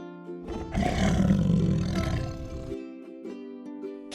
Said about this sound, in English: Tiger, cub, tiger, young one is cub.